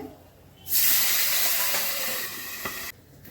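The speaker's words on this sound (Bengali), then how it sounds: "এবার এই মাছগুলো ভেজে নিচ্ছি" Pabda fish hit hot oil in a pan, and a loud, sudden hissing sizzle flares up and holds steady for about two seconds before cutting off sharply.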